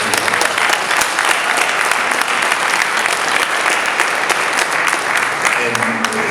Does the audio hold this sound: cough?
no